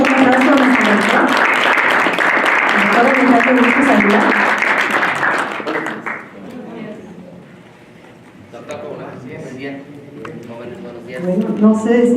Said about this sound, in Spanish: vamos a dar un aplauso a nuestro rector